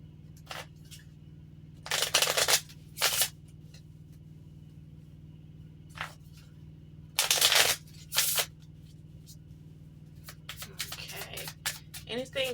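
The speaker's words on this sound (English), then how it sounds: "Let me shuffle." Tarot cards being shuffled, with several short bursts of riffling and flicking, the longer bursts near the start and middle and a scatter of softer flicks toward the end, over a steady low hum.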